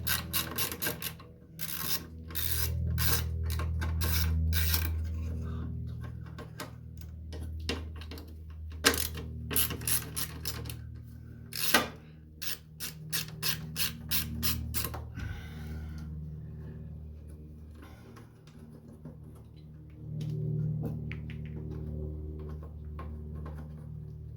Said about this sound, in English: So we'll just do it with the ratchet.